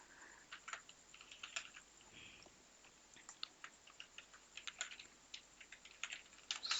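Quiet, irregular taps on a computer keyboard as someone types an applicant's name into an income, caste and domicile certificate form, with soft scattered keystrokes and short pauses and no voice.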